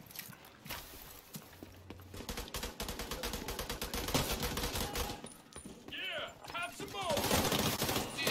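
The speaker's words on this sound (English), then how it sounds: "I done shot him a whole bunch in his face." Rapid gunfire from The Division 2 crackles in bursts and single shots, moderately loud amid game ambience, while a voice talks over parts of it.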